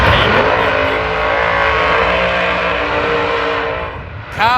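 Drag racing cars launch side by side at Dragway 42, a loud, close, sustained engine roar that holds high and then fades, ending with a sharp rising whine and tire noise.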